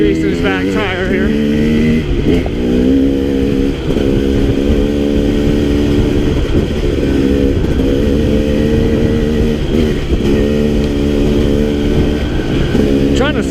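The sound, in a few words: KTM 300XC dirt bike riding on a single track trail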